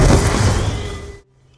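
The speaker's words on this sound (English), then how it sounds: "the building erupted in flames as explosions detonated all around us" A loud explosion in the video game Black Ops 2, a heavy booming rumble with crackling debris that fades over about a second, then cuts abruptly to near silence.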